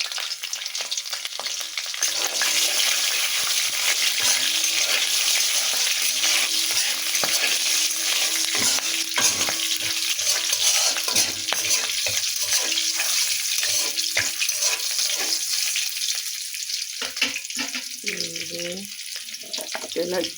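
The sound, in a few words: frying whole cumin spice and green chili in oil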